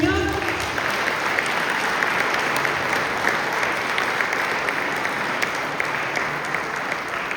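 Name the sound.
congregation applause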